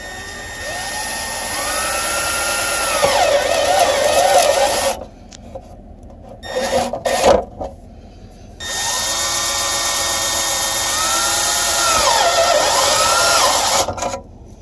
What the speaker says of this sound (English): I'm going to use a step bit.